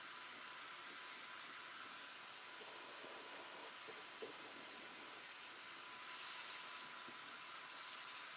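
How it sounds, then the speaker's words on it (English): A hair dryer blows a steady, even rush of air, a constant broadband hiss that never changes much, heard fairly quietly with no one talking. "this is our instinct blow dryer. This just kind of rounds off the instinct set. It puts a ton of air down."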